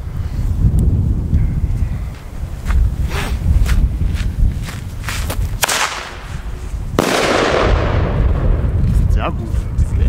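F2 bomb tube fireworks go off outdoors in a string of sharp bangs and crackles, one heavy blast near the end, with wind buffeting the microphone and footsteps shuffling nearby.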